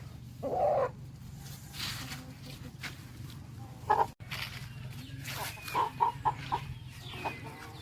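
A native country rooster on a farm clucks in a few short, fairly close bursts, with other fowl calling faintly against a steady low background hum.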